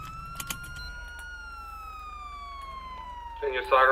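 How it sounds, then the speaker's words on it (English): A video game police car siren wails in a long, slow sweep, with a few clicks at the start and a brief burst of talk at the end. "Turn your sirens off."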